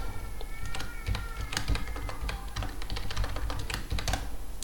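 Typing on a computer keyboard while entering commands in a command-line JSON editor: rapid, close key clicks tap in an uneven rhythm throughout over a faint background hum.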